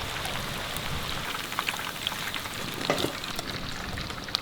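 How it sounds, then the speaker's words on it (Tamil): Chicken lollipops deep-fry in hot oil, producing a dense, even crackling hiss like steady rain, with a few sharper pops standing out. "அப்படியே எண்ணெயில் இறக்கிடலாம்."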